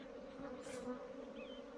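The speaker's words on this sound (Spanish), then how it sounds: "Abejas alrededor de mí, en todas las partes, me están llegando." A swarm of bees buzzes steadily all around, a continuous close drone with a few louder passes of individual bees near the ear.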